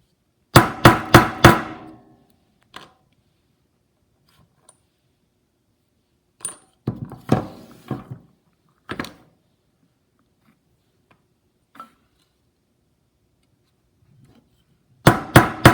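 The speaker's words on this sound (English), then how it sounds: "I'm going to go ahead and use my jewelry stamps, my letter stamps, to write a word." Metal letter stamps for jewelry are struck into metal with a hammer: sharp ringing blows in quick clusters of three or four, separated by silent pauses and a few lone taps, close and clear with no talking.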